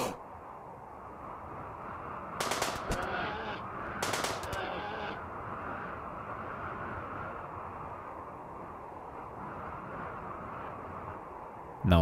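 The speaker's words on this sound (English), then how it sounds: "the polar bear doesn't die from just a few gunshots" Machine pistol gunfire at a polar bear in the RimWorld video game, two short bursts of rapid shots over a steady droning ambient bed, fairly faint and distant.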